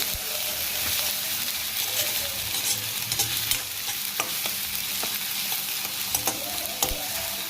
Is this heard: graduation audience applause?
no